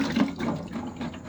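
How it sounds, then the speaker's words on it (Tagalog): Water draining off boiled food in a kitchen while cooking sinigang, a short close splashing and trickling pour. "Tapos patuluin lang natin para mawala yung tubig."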